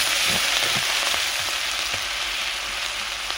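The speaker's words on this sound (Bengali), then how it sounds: "দিয়ে ভালো করে মশলা আমি কষিয়ে নেব" Spice paste of coriander, onion, ginger and poppy seed frying in a pan, giving a bright continuous hiss with a few soft stirring scrapes, close and even.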